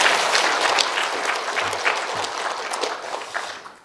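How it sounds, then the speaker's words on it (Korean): A church congregation claps together during a praise worship service, a dense, steady round of applause that starts full and slowly thins out over a few seconds. "우리 박수로 다시 한번 격려하겠습니다."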